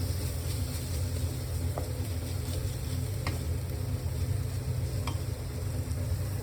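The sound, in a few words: stirring cumin powder and chole masala into the spinach curry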